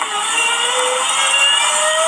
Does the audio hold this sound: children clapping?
no